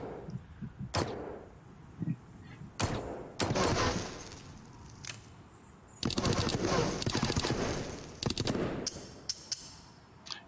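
Full-auto weapon fire in the Into The Radius VR video game comes in sharp bursts and single cracks, loud and close, with short rapid strings and quieter gaps between them.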